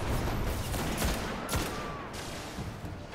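Gunfire crackles in the Destiny beta while snipers are taken out, with several quick bursts and sharp shots over dense game battle noise, moderately loud and continuous.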